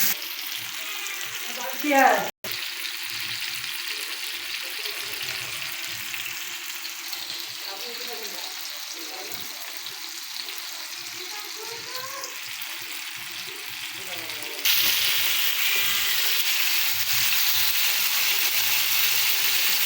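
Small fish sizzle steadily in a frying pan in a village kitchen, a continuous crackling hiss that grows louder near the end, with faint stirring noises.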